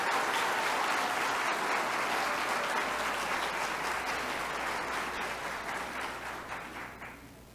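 Sustained applause from a crowd at a public ceremony, fairly distant and steady, fading gradually toward the end with no voices over it.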